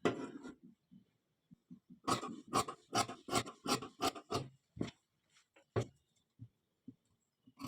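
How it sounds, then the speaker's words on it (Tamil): Scissors cut through blouse fabric in a quick series of rasping snips, loud and close, clustered in a burst and then thinning out to scattered, softer cuts against near silence. "இப்போ நான் அது கட்டிங் போடுறேன்"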